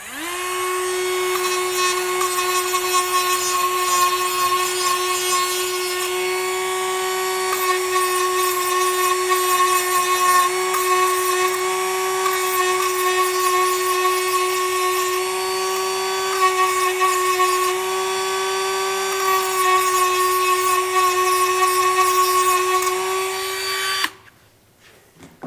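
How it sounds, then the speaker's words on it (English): A Dremel rotary tool grinds down an edge with a loud, high-pitched, steady whine that holds for over twenty seconds and then cuts off near the end. "Just take my Dremel."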